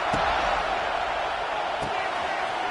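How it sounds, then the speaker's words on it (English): Stadium crowd in the College Football 26 video game, a broad steady roar of cheering with a couple of brief thumps, under a commentator's voice. "This crowd ready to make its presence known."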